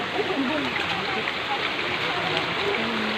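A stream near a waterfall rushes in a steady, broadband wash, loud and continuous, while family members talk and call out over the flowing water.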